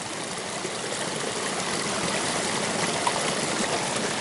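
A forest stream flows steadily beside a woodland path, a constant close rushing and trickling wash of water with no break, no voices, for the whole stretch.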